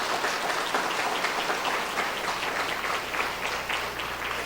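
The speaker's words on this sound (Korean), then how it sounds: "한번 격려의 박수 한번 해주시면" Church congregation clapping in encouragement for a newly commissioned officer, a dense, steady round of applause from many people, close and continuous throughout.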